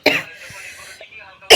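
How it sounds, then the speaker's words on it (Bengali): A person gives a single sharp cough at the start, close to the listener, followed by quiet breathy sounds and a second short burst at the very end. "আমার কাশি হয়ে গেল ঠান্ডা জিনিসটা একবার খেয়ে"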